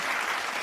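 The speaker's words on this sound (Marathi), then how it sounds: "जोरदार टाळ्या होऊ द्या" A brief burst of dense audience applause at a comedy bharud folk performance, an even wash of many hands clapping for under a second, fairly soft and without talk.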